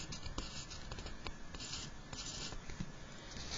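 A pen or pencil writes out a quadratic formula math solution by hand, with quiet close scratching strokes and short taps in an uneven rhythm.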